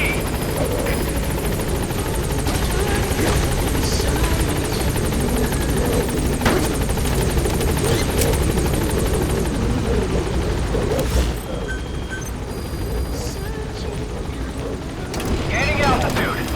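Helicopter in the Metal Gear Solid V video game, a loud steady rotor thrum running throughout with bursts of game effects, easing slightly near the end while in-game radio voices speak over it.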